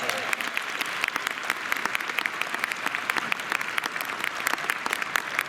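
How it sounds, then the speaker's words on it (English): Audience applause at the 2022 graduation ceremony of Burrell College of Osteopathic Medicine, a steady dense wash of many hands clapping throughout, fairly close and even in level, with no clear talk over it. "Let's give him a round of applause again"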